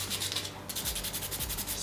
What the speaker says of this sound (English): dunk it in the soapy water and sand until it becomes white